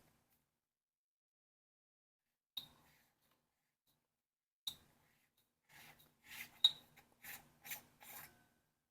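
The tailcap of a Pioneman K75 flashlight is unscrewed. Two isolated metallic clicks are followed by a quick run of soft, close grinding thread scrapes in an otherwise silent setting.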